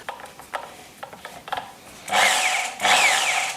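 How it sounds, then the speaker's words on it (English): A metal screw being shaved down with files to fit a guitar ferrule block: a few light scrapes and clicks, then two long, loud rasping strokes close by, with no talking. "I'm going to start with shaving the screw"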